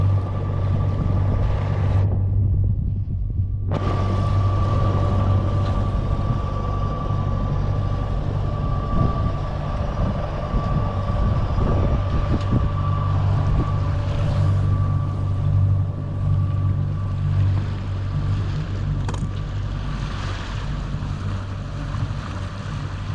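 A sailboat motors under engine power on a windless calm sea, a steady low engine drone with water wash running continuously and closely for over twenty seconds.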